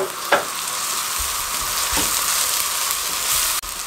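Onion, garlic, ginger and green chillies sizzle steadily in a karahi over a medium flame, with a continuous bright frying hiss and occasional scrape and clack of a spoon stirring, close and alone without talk.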